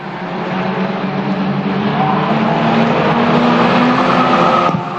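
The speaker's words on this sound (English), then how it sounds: "that rapid little orange machine, the Steve Tandy car, doing a good job out on track at the moment" Junior hot rod race cars roar around a short oval track at a night racing final, a dense, loud engine drone that swells steadily with no commentary heard over it.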